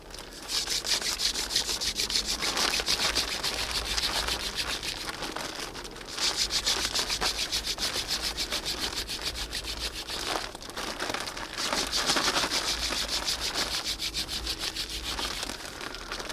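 A wooden spindle is drilled against a hearth board for friction fire, making a continuous close dry rubbing and whirring hiss in long steady bursts with brief pauses.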